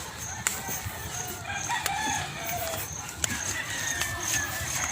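Chickens crow and cluck around a rural farmyard, with repeated rooster calls over a busy background of clucking, small knocks and a voice talking quietly underneath.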